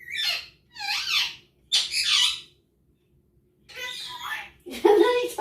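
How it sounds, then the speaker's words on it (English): A pet bird squawks in a home kitchen, several loud harsh bursts in a row with brief pauses and a longer gap before two more calls, close to the microphone. "Now he's doing a little less talking and more squawking."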